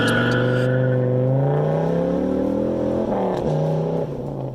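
A Dodge Ram SRT10 pickup with the Viper's 8.3-liter V10 rumbles close by, a deep, loud, steady drone whose pitch rises gradually as it revs, then dips and wavers near the end.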